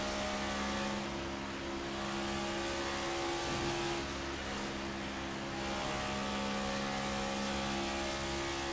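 Race car engine heard on board in a sim racing game at Daytona, the number 45 car at half throttle, a steady loud drone with sustained harmonic tones throughout and no change in pitch.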